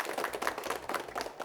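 Dense, steady applause from a studio audience on a televised school quiz show, many hands clapping together at an even loudness for the whole stretch.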